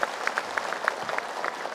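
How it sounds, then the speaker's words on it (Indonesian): A studio audience at a televised Islamic religious talk show applauds a guest preacher, brisk scattered clapping with sharp individual claps throughout a short burst. "silakan tepuk tangan untuk Ustaz Zaki."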